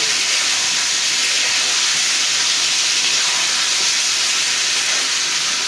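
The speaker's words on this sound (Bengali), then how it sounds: "তেল পেঁয়াজের উপরে মশলা সহ ভালো করে একটু কষাই নিতেছি" Onions and spices fry in oil in a pan, a dense, continuous, even sizzling hiss that stays loud and unbroken from start to finish without any voice over it.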